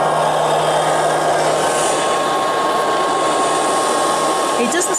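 Liectroux B3000 robot vacuum cleaner running indoors under and around furniture, a loud, steady whirring hum with an even tone that holds throughout.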